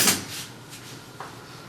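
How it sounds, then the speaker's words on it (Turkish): A folding camping chair being flipped upside down during fabric replacement gives a sharp knock at the start, then faint scraping and a small clunk near the end. "Bakın hemen sandalyeyi ters çeviriyorum şimdi"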